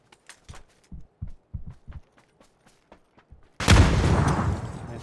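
A grenade explodes in PUBG with a sudden loud boom that rumbles out and fades, following a series of quiet, evenly spaced thumps and footsteps.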